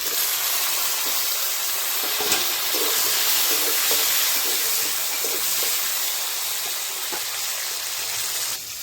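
Potatoes sizzle in hot oil for a Bengali Boal fish curry with lentil nuggets and eggplant, a steady close hiss with faint scraping stir clicks throughout.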